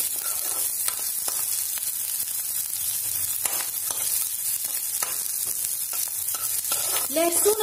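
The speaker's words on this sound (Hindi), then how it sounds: "हरी मिर्च, इसके बाद थोड़ी सी अदरक, इन्हें अच्छे से गोल्डन ब्राउन होने दें।" Green chilli and ginger fry in hot oil in a pan until golden brown while palak paneer is being made, giving a steady, close sizzle with occasional soft stirring clicks.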